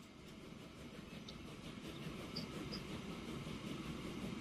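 Train rolling along the rails in the Transport Fever 2 game, a steady, fairly quiet rumble with faint clatter running throughout, with no talking.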